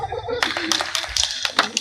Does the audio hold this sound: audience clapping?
yes